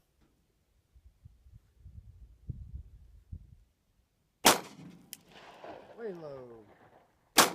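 Glock 19 Gen4 pistol fired on a range during a dot torture drill: a single loud, sharp shot, then a brief quiet interval with a voice speaking, and a second crack right at the end.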